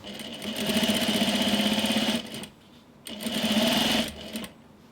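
A sewing machine stitches boning onto a wedding dress toile, running in two steady bursts of rapid, even needle chatter, each about two seconds long, with a brief quiet pause between them.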